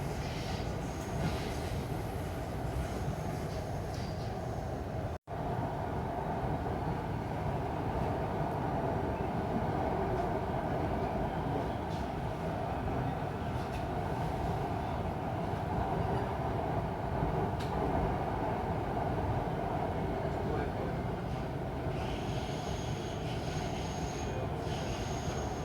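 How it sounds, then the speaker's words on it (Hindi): A Mumbai Metro train runs between Andheri and Dahisar, a steady rumble and rolling wheel noise heard from on board, constant throughout with faint squeals and no talking. "भाई अपनी मेट्रो जा रही है, तो देख सकते हैं।"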